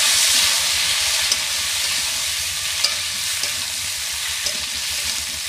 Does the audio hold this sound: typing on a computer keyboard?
no